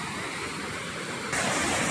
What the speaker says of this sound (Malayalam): അതിമനോഹരമായ വെള്ളച്ചാട്ടം.